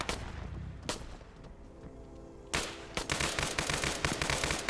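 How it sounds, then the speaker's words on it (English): Gunfire in the military video game Arma 3: a few loud isolated shots early on, then dense rapid bursts of automatic fire and crackling shots filling the second half, close and sharp. "Skelly's down, firing at Yanni."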